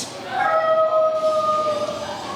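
A dog with food aggression issues howls with a rising, wavering tone and thin yips, one drawn-out howl close by lasting about two seconds, with some voice in the background.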